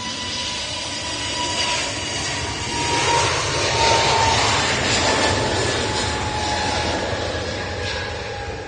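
An EasyJet Airbus Neo jet roars steadily at Manchester Airport during windy Storm Otto, a loud, sustained engine rumble and whine mixed with gusting wind throughout.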